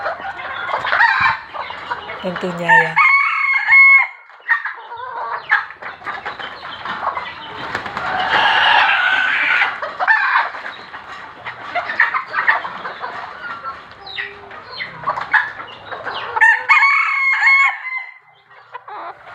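Chickens clucking and roosters crowing on a small farm plot, with several crows standing out near the start and again near the end over steady nearby clucking and some wing flapping; a brief voice speaks.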